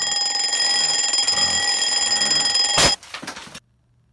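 An alarm clock rings with a steady high electronic tone for nearly three seconds, then a sharp loud burst cuts it off and brief rattling follows before silence.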